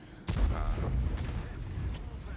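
A tank cannon fires in the World of Tanks video game: one sharp, loud boom followed by a long, rumbling decay that lasts to the end.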